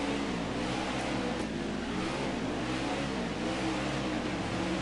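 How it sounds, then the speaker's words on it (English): A race truck engine held at full throttle during a Truck of Tomorrow series race at Homestead, a sustained droning roar with slow wavering pitch, heard steady at a moderate distance without talk. "that was full throttle, okay? Because, listen to the engine."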